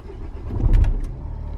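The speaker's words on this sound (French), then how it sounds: "Je démarre la voiture." A Renault Vel Satis or Scenic car engine starts with a brief low cranking burst that catches and settles into a quiet idle, close by with no talking.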